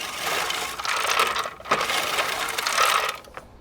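A non-powered manual reel lawn mower with freshly sharpened blades cuts grass, giving a close, continuous whirring clatter of spinning blades that pauses briefly mid-stroke and then resumes.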